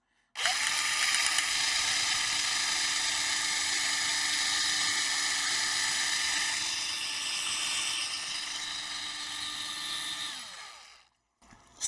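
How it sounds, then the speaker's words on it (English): Small high-pitched drill grinding out a stripped screw on a laptop board, a steady whining buzz lasting about ten seconds before cutting off, close and alone. "Also, when you're drilling, try to rotate the drill a little bit."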